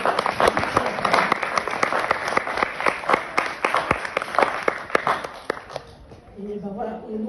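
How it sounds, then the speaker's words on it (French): An audience at an anniversary celebration breaks into sustained applause, with bright rhythmic clapping that fades toward the end as a voice begins speaking. "Je vous propose de l'applaudir parce que c'est un travail."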